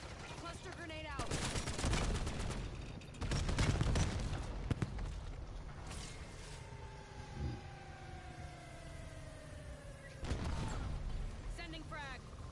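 Blasts and bursts of gunfire in a PS4 shooter game, with several loud broadband booms early on, then quieter rumbling, a passing vehicle-like whine, and another burst near the end, with faint talk in places.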